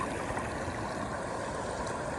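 The Umpqua River in Oregon rushes over rapids, a steady, dense roar of flowing water heard close and alone.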